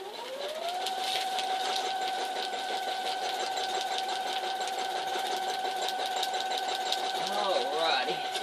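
A sewing machine runs steadily while stitching a newspaper quilt, a close, continuous mechanical whir with a rapid rhythmic clatter that holds for several seconds before slowing near the end.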